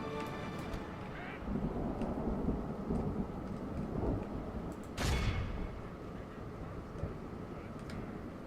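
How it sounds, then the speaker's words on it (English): Steady rain hiss with a low rumble of thunder and a sharp crack midway, in a rainy medieval battle in Medieval Total War II, with faint battle noises beneath, fairly quiet overall. "due to the fact that it's raining"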